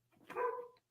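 A pet dog, a female, lets out one short, sharp bark. It sounds fairly faint and slightly distant, with no voices around it.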